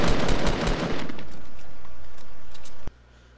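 Automatic gunfire in the video game Fortnite: a rapid, loud burst of rattling shots for about a second, then lighter scattered shots with a steady background hum, and one final crisp shot before the sound drops away.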